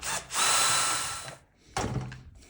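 Screws being driven out of a Bang & Olufsen Beomaster 7000 receiver with a power driver, two close, loud whirring bursts separated by a short pause.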